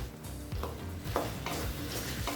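Chopped brinjal and drumstick are tossed and sautéed in a pan with tomato, a spatula scraping and rustling in quick strokes over soft frying crackle, close but fairly quiet.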